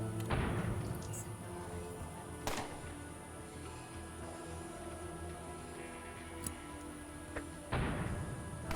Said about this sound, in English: Grenade, go!